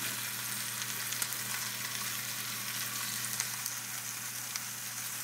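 A whole chicken sizzles steadily in a cast iron skillet, with a dense, even frying hiss that stays close and constant throughout, with no talking.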